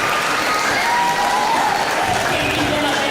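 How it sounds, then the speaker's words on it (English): An audience at a Nairobi regional education dialogue event breaks into sustained applause, a dense, loud wash of many hands clapping throughout. "A round of applause for that."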